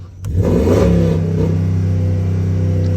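A car engine revs as the gas pedal is pressed during an oil change, rising from idle into a loud, steady, close mid-pitched roar that holds without a break.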